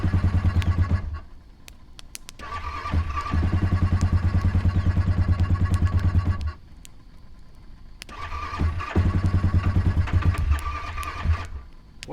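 An ATV that had trouble staying started cranks and catches repeatedly, its engine chugging in rough rhythmic pulses, cutting out briefly, then firing again and running loud and close.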